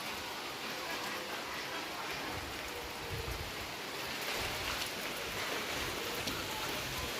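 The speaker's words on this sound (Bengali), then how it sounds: "গাইস, বৃষ্টি হচ্ছে এখন।" Heavy rain pours down around a village pond, a dense, steady wash of faint hiss with gusts of wind and a few louder patches of splashing.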